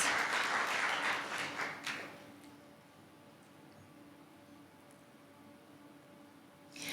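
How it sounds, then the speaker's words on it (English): Applause from an audience at a youth oratorical contest, a full burst of clapping that fades out over about two seconds into a quiet room, then starts up again briefly at the very end. "Let's have another round of applause to let them know that we're here for them today, okay?"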